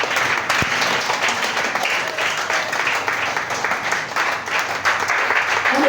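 A church congregation applauds during a worship service, with dense, sustained clapping that fills the room at a steady loud level for several seconds.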